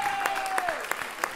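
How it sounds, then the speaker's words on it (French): Audience applause at the final of the French-language slam poetry championship in Le Mans, a steady dense clatter of clapping from a crowd, with a faint voice carrying through over it. "Sous vos applaudissements"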